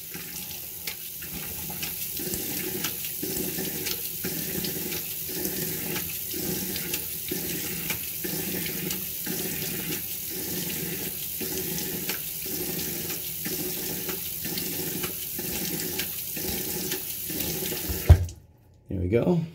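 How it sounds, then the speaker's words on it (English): A bathroom tap runs steadily into a sink for a wet shave, a continuous close splash with rhythmic dips as hands scoop water to the face, cutting off abruptly near the end. "Just kind of wet the face."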